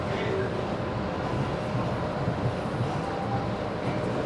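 An MBTA Green Line train at Lechmere Station gives off a steady, broad rumble and hiss of wheels and motors, evenly loud all the way through, with no distinct clanks or announcements standing out.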